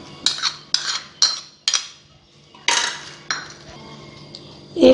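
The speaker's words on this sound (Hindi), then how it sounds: "एक दफ़ा हम चम्मच के साथ इसे मिक्स कर लेंगे।" Kabab masala stirred with a metal spoon in a bowl, about seven distinct scraping clinks in an irregular rhythm, close and fairly loud with no talking.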